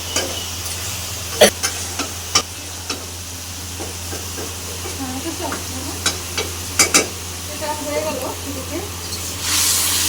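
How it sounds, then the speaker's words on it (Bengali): Shrimp and potato botboti fry in a pan with a continuous sizzle, punctuated by scattered spatula knocks and scrapes, rising into a louder hiss toward the end. "আমি দেখেন চিংড়ি মাছ দিয়ে আলু দিয়ে বটবটিটা বসাই দিচ্ছি ভাজি, এটা ভাজি করবো।"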